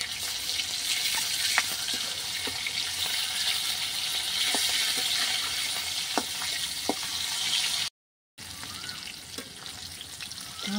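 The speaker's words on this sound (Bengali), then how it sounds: "সবগুলো মাছ একবারে ভাজা যাবে না, আমি 2 বারে মাছগুলো ভেজে নেব।" Pieces of freshly caught snakehead fish fry in a pan of hot oil, a steady loud sizzle with occasional pops and crackles, briefly cut to silence near the end before the sizzling resumes.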